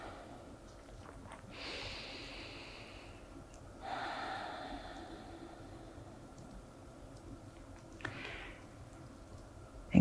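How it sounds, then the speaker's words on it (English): Three slow, deep breaths during a quiet yoga relaxation, each a soft airy inhale or exhale, close and calm over a faint steady background hum. "Take a couple of breaths."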